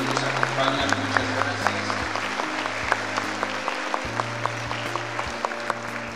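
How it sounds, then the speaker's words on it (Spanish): An audience at a national anthem performance contest claps steadily for the parents, a moderate, continuous patter of applause with a low hum underneath. "Vamos a brindar un fuerte aplauso a los papás que en esta ocasión nos acompañan"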